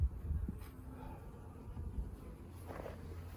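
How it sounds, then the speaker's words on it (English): Honeybees hum softly and steadily around an opened hive while someone works the frames during an inspection, with faint handling knocks and thuds up close. "just trying to keep these bees down on the frame."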